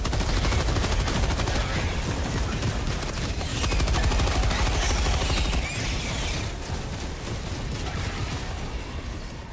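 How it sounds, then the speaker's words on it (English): A Helldivers 2 orbital Gatling barrage fires a sustained rapid stream of loud shots that keeps going for several seconds over a dense, noisy battlefield, then eases slightly toward the end. "Got my Gatling coming in"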